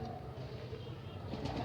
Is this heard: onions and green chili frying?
no